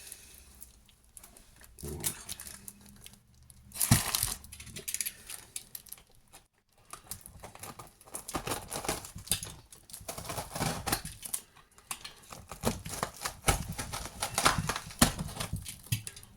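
A cardboard parcel of pet supplies being opened: crinkly bursts of tearing and rustling packaging come in irregular, close handling noises, with a short quiet gap partway through.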